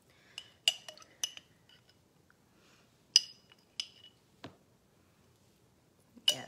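A spoon clinks sharply against a dish while making 5-minute ice cream, giving isolated bright taps and small clusters of clinks separated by quiet pauses.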